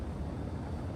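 A jet afterburner in a video game gives off a continuous low, broad roar for about a second, steady and loud with nothing else heard over it.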